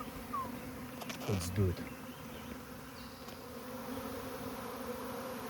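A swarm of bees buzzing nearby, a dense steady drone with individual bees passing close and loud, while a person speaks briefly.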